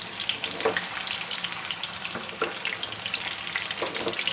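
Kofta fry in a pan over a medium flame with a close, bubbling sizzle full of small pops and crackles, steady throughout and with no voices.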